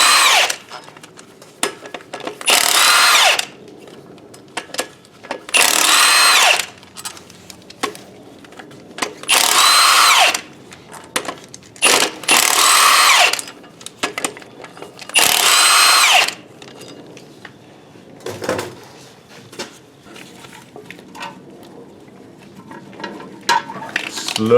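A power tool, likely an impact wrench, spins off 17mm bolts holding a flywheel to the crankshaft during a rear-wheel-drive car clutch replacement, giving several loud buzzing bursts of a few seconds each, separated by quieter pauses with clinks of tools.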